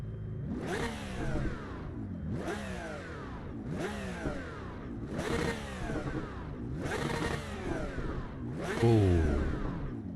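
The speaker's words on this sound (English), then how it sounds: "Let's see what it sounds like with a rev test." Repeated engine revs from a car in the Assetto Corsa EVO racing game: six rising-and-falling bursts roughly every 1.5 seconds, each climbing to a high whine before dropping back, loud and close.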